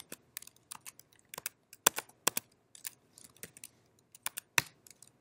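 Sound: typing a sudo swapon command on a computer keyboard

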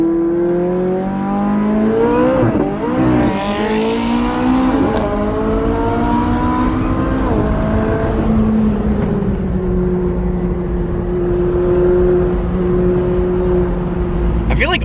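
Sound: Bugatti Chiron supercar driving past

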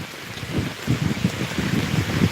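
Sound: heavy rain falling in a village

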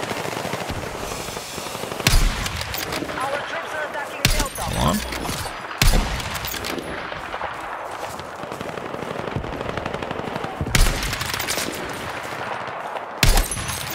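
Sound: gunfire in Battlefield 6 video game

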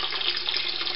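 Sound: water stream running into an aquaculture tank

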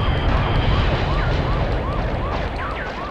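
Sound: police car siren in a video game

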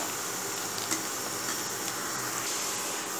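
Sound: onions frying in oil for dal tadka

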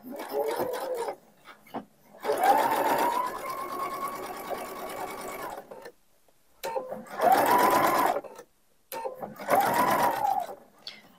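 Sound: sewing machine sewing patch pockets with flaps

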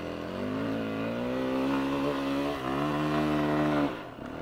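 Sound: enduro motorcycle climbing a hill

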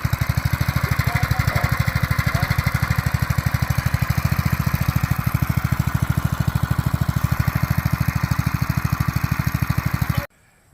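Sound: small engine running

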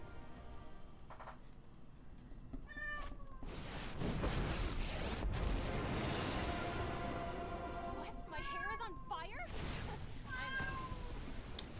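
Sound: cat meowing

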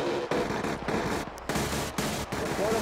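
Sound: vehicle gun firing in a video game

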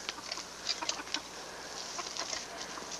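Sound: chickens clucking

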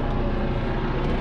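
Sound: airplane flying low over the apartment building

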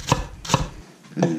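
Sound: knife slicing an onion thin

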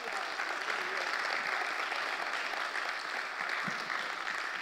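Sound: audience applause

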